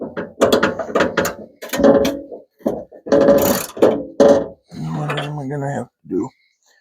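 A socket wrench ratchets in a series of short, close clicking bursts while working on the door of a Plymouth Duster, with pauses between strokes.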